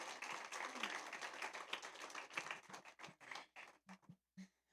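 A church congregation applauds its pastor, a burst of dense clapping that thins into scattered claps and fades out, with no talking over it.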